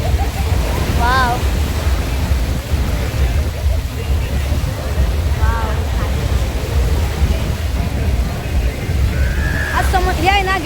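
Surf sloshing and splashing continuously at a Goa beach, a steady loud wash of water with voices and chatter mixed in throughout.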